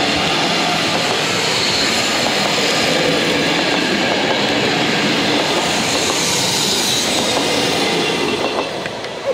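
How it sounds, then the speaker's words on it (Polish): A train to Gdynia rolls steadily past a level crossing in Władysławowo, Poland, at close range, a loud continuous rumble of wheels on rails with faint metallic squeals, no voices. "I jedzie nam drugi pociąg."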